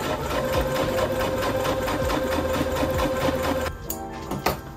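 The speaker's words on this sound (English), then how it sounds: "I can take these pieces to my machine and sew along the neckline to get a nice finish" A sewing machine runs steadily along the neckline of a silk wedding-guest dress, a continuous close mechanical whir with rapid stitch rhythm for most of the stretch, then slowing and stopping near the end with a few handling clicks.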